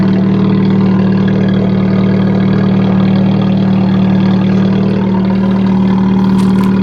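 A Fiat Panda fitted with an Abarth Monza exhaust idles and revs close by, a loud, continuous deep engine burble with slight rises in pitch, with no talking over it.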